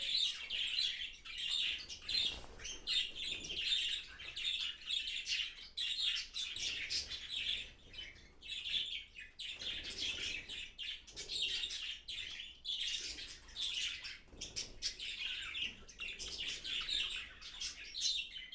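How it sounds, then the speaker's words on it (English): Many finches chirp and tweet continuously in a lively chorus in an aviary, with occasional soft cooing from doves underneath, fairly close and with no talking. "So the finches and dime doves are really happy."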